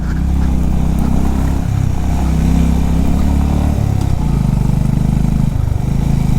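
Honda CB350RS motorcycle ridden off-road, its single-cylinder engine loud and close with a steady throbbing drone, the pitch dropping and rising as the throttle shifts, with wind rush over the top.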